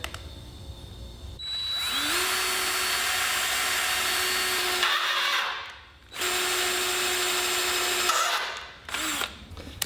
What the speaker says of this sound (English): Pre-drill it.